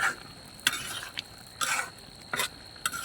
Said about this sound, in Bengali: মাছগুলো দিয়ে একটু নাড়াচাড়া করতে হবে